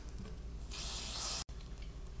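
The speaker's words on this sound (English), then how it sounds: "I'll just spray them." Aerosol lubricant sprayed onto ice skate blades: one close, steady hiss lasting under a second, cut off abruptly, over quiet room background.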